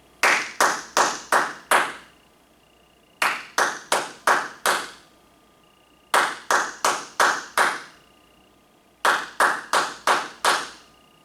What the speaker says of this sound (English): Let's try clapping this rhythm while thinking the numbers and not saying them.